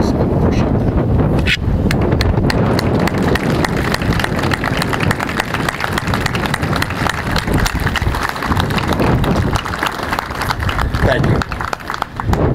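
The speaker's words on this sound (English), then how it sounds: "we can give you a round of applause" Sustained, dense applause fills a law enforcement memorial ceremony as the standing crowd honors the families of fallen officers. It is loud and continuous, with a rushing, wind-like texture, and a voice briefly speaks over it.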